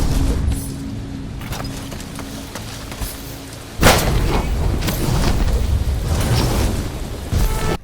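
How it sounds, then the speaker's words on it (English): A whip ability in the video game Possessor(s): a low rumble gives way to a sudden sharp crack and booming burst, followed by crackling, roaring noise like a lightning strike, loud and close. "Every time you use it, it sounds like a lightning strike."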